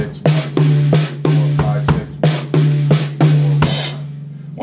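A drum kit plays a sixteen-note fill as a steady run of loud, close strikes with a ringing low drum tone under each hit, ending on a bright crash, no talking.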